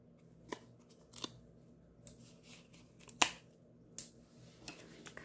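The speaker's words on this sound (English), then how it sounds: "Come in with my scissors." Scissors snip paper or craft material in a quiet room, about seven short sharp cuts spaced irregularly across a few seconds, close and crisp with no talking.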